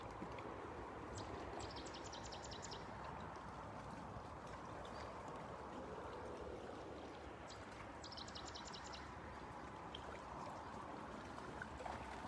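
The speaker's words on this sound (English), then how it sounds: "Can you hear the waves down here?" Small waves lap steadily at a calm shoreline, a soft, continuous wash heard from nearby at low volume, with a few brief bird chirps above it.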